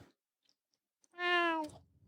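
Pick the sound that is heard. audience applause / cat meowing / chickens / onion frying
cat meowing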